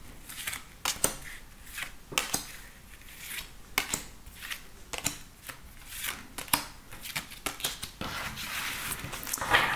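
Tarot cards are drawn and shuffled close up, giving a busy run of soft riffling flicks and slaps of uneven rhythm, heard alone without talk.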